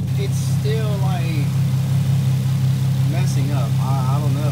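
A Nissan 350Z with a misfire idles at around 700 rpm, a steady low drone running unbroken beneath someone talking close by.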